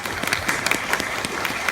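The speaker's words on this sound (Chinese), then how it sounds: "好，掌声鼓励一下。" An audience at a 2017 fan event in Chongqing gives a brief burst of clapping, a close, even patter of many hands lasting under two seconds.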